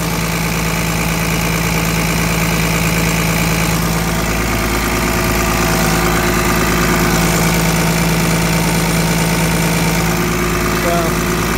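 The diesel engine of a 2012 Freightliner crane truck runs with a loud, steady rumble, its pitch rising slightly as it revs, close by, with a voice speaking over it.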